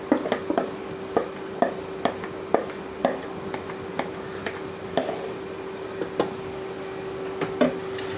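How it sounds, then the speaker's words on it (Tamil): Marinated meat is stirred into biryani masala in a pot with a low background sizzle. The stirring is rhythmic, with regular clacking strokes and squelches about twice a second. "கறி சேர்த்த பிறகு கொஞ்சம் நல்லா கிளறி கொடுங்க."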